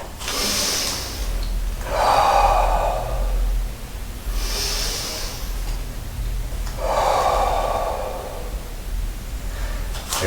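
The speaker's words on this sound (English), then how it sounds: "couple breaths in" Deep breaths drawn in during a Shotokan karate class, two long airy inhalations spaced several seconds apart against steady low room rumble, with no talking.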